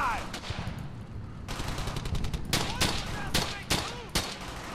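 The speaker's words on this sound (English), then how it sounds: "Covering fire." Rapid bursts of automatic and rifle gunfire in the World War II shooter Brothers in Arms: Hell's Highway, loud, close and dense, with volleys overlapping and trailing echoes throughout.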